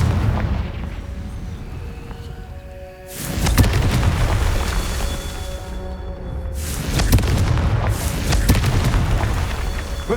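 Fire spell explosions in Hogwarts Legacy, two heavy booming blasts a few seconds apart with rumbling decay and crackling debris, loud and close, no voices.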